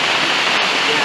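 Light rain falls gently around a plastic-lined pond built to collect rainwater, a soft, even hiss that carries on unbroken throughout.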